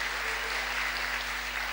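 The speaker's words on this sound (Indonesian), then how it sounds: "Tepuk tangan bagi Tuhan Yesus yang meriah sekali." A church congregation applauding, a dense, steady wash of clapping at an even level for the whole stretch, with no voices on top.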